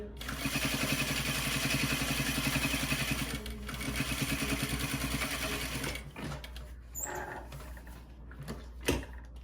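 A sewing machine stitches layers of foam bra cup material in a steady, loud mechanical whir for about six seconds, then stops, leaving a few small handling clicks and rustles.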